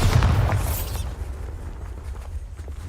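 A Bombarda exploding spell in Hogwarts Legacy, a single loud close boom with a bright crackling burst that decays into a low rumble over a couple of seconds.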